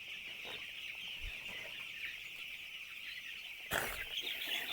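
Six-day-old poultry chicks cluck steadily in an enclosed poultry shed, many birds at once, with a louder burst of clucking near the end.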